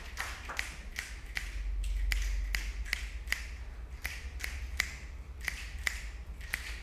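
An audience at a national road tolling policy engagement in Nairobi claps together in a crisp, rhythmic counted pattern of sharp, evenly spaced claps over a low room hum.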